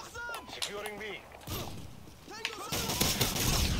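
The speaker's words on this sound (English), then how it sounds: "Someone just shot the shit out of the wall that I was next to" Call of Duty MW2 multiplayer gunfire: a burst of rapid shots hammering a wall, then several sharp separate cracks and clatter, with scattered mechanical clicks and steps between them, close and punchy.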